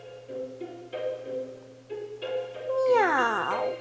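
A cat's meow rises and then slides downward near the end, following sustained synth-like tones and a steady low hum of a rap beat.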